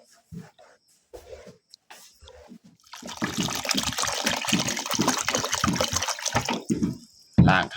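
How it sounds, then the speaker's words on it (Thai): Corn grains being rinsed in water, part of turning corn into a rice-like staple in rural Laos; a few soft knocks and a pause, then several seconds of steady, close sloshing and splashing that stops abruptly. "อันนี้เราจะเอามาล้างอีกเนาะ"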